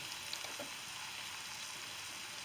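Chopped onion frying in a little oil in a pan, a soft, steady sizzle with faint crackles, heard alone and at low level.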